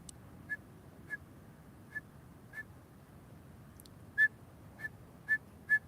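A person whistles brief, sharp single notes that imitate the one-note call of a California towhee, a large sparrow, on an outdoor walk near Half Moon Bay. About eight short chirps come at irregular intervals over a quiet, low outdoor background.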